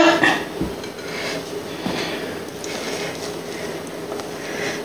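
A utensil scraping the bottom and sides of a bowl while making tiramisu, giving a clear clink at the start followed by repeated soft rasping strokes, close and steady, with no talk.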